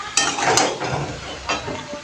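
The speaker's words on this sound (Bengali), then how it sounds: "চিংড়ি চলছে কষানো" Shrimp sautéed and stirred in a pan: a soft sizzle under a few scraping spatula strokes against the pan, heard close and brief.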